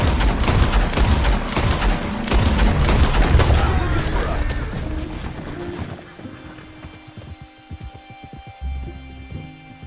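Gunfire in a western-style video game breaks out in dense bursts of shots for the first half, then thins to sparser sounds under a quieter game soundscape.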